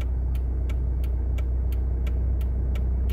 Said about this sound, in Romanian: Se aude mașina cum tremură, da?